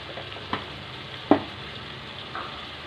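Vegetables with garlic paste and turmeric frying in a pan for vegetable khichdi, a soft steady sizzle broken by a few brief scrape-like clinks as the mix is stirred.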